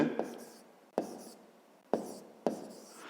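A pen writes by hand during a fifth-grade maths exercise, with four sharp scratchy strokes spaced about a second apart, each fading quickly, close and quiet.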